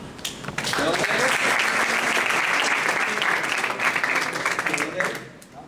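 A conference audience in Panama breaks into loud, sustained applause that swells after a brief quiet start, holds as a thick wash of clapping, then tapers away at the close.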